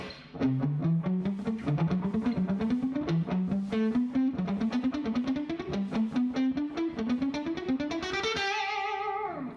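Fast, driving distorted electric guitar picking line, rhythm shifting between steady and doubled speed, ending on a ringing sustained chord.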